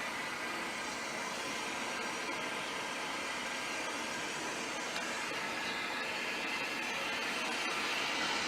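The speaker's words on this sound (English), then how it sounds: "I am pushing the foot pedal to activate the vacuum" Steady, continuous vacuum hiss from a back stacker on a multi-bore tubing extrusion line, switched on by a foot pedal, a broad even rushing noise holding at constant level throughout with no talk.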